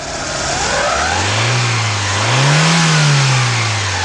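Ford Escort engine fitted with a Mikuni carburetor revs up steadily as the throttle opens, a close, loud mid-pitched drone that rises, dips slightly, then climbs and holds before easing off, with no talk over it.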